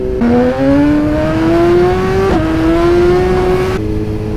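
A modified Suzuki GSXR motorcycle pulls hard through the gears, its engine note climbing steadily in pitch with a brief break at a shift, loud and close as it accelerates.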